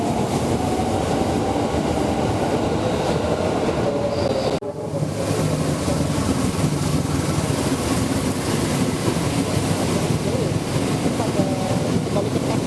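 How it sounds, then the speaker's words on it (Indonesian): The Argo Bromo Anggrek passenger train from Surabaya Pasar Turi rolls past at a Jakarta station with a continuous loud rumble and clatter of carriages, faint wheel squeal above it, steady throughout. "Nah, ini kayaknya Argo Bromo Anggrek ya. Nah, ini keretanya ini dari Surabaya Pasar Turi ya."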